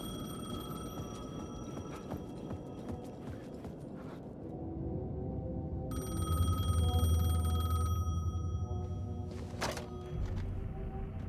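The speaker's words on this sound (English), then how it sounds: "payphone was ringing" Payphone ringing in the video game Alan Wake 2, steady electronic bell tones running under an ambient game backdrop with a low rumble swelling midway.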